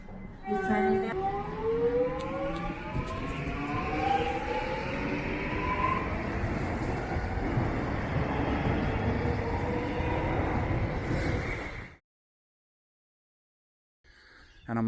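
A train pulls out of a suburban Melbourne station in Blackburn, its rising whine and steady rumble holding loud for about twelve seconds before cutting off to silence.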